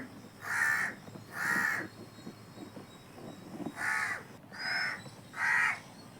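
Crows caw outdoors in short bursts: two calls, a pause with faint background bird chatter, then three more evenly spaced caws, each fairly close and loud.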